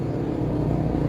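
A car engine runs as a steady low rumble during a driving lesson, close and moderately loud, with no speech.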